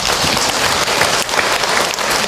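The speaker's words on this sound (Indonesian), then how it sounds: "Buat tepuk tangan untuk Ahilman ya." A crowd claps steadily and loudly, a dense, continuous patter of many hands filling the whole stretch with no pause.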